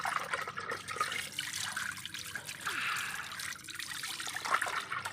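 Sliced produce is rinsed and swished in water, a quiet, continuous trickling and sloshing with small splashes that rise and fall over a few seconds.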